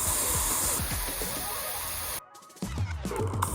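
A Gardena Multi Sprayer pistol-grip garden nozzle sprays water in a steady, close hiss, then cuts off abruptly and leaves a moment of near silence before scattered spattering and handling sounds follow.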